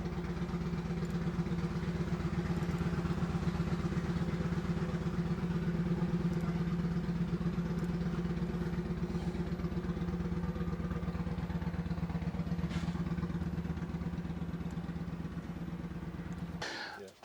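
A 2006 Harley-Davidson Softail engine runs steadily on a dyno, a loud, continuous low rumble with a throbbing pulse that holds for most of the stretch before cutting off abruptly near the end.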